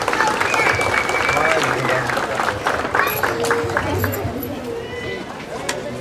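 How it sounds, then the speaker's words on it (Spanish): Crowd applause at a ceremony for the change of local auxiliary authorities in San Sebastián, Huehuetenango, steady clapping and cheering held throughout, mixed with crowd murmur and an announcer's voice. "Un aplauso a ti, Benjamín."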